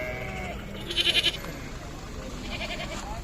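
A male goat bleats once in a short wavering burst, with a fainter bleat later, over low outdoor background noise at the livestock market in Torbalı, Izmir, Turkey.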